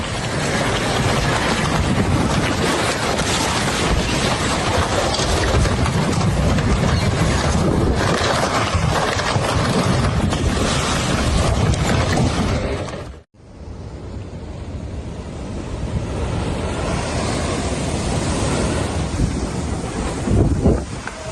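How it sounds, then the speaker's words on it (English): Nighttime flood waters and sea waves in Scotland roar with heavy wind buffeting the microphone, a constant loud rush of surf that cuts out abruptly, then returns as a softer, steady wash of water and wind. "This terrifying nighttime flood happened in Scotland."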